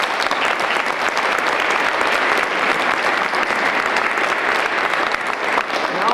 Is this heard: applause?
yes